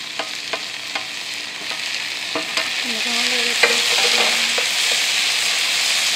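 Onions fry with tomatoes, green chilies and garlic in a home kitchen pan, a steady bright sizzle with scattered spoon clicks and scraping stirs, close and continuous without talk.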